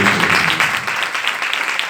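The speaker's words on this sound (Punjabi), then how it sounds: "ਜ਼ੋਰਦਾਰ ਤਾੜੀਆਂ ਮਾਰੋ।" A church congregation claps loudly, a dense sustained burst of applause that fills the room without letup.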